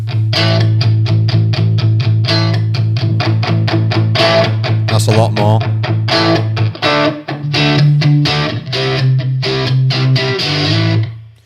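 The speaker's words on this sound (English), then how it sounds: "It sounds like an overdrive." Electric guitar through the overdrive effect of a Boss Katana amp, with crunchy distorted strums in a steady choppy rhythm and sustained chords at the end. A voice briefly talks over it.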